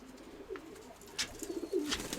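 A pigeon coos softly nearby, a few low throaty calls spaced apart, with light rustling and faint background noise.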